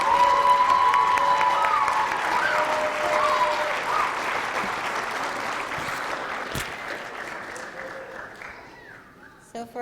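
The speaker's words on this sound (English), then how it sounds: "Let's give one round of applause to our award winners." A room of people applauds award winners at a Martin Luther King community event, steady dense clapping with a few voices over it, gradually fading out toward the end.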